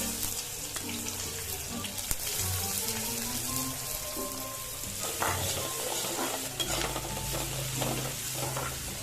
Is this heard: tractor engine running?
no